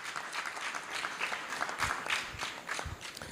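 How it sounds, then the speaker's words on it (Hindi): Soft, somewhat distant applause from a gathered congregation welcomes Lord Krishna during a Janmashtami celebration, a sustained ripple of many clapping hands with no speech over it. "हम जोरदार ताली से भगवान कृष्ण का स्वागत करते"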